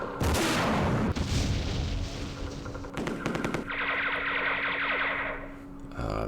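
Sustained automatic gunfire from the Vietnam War strategy game Campaign Series Vietnam, loud, distorted rattling bursts that shift in tone partway through, continuous and with no talk.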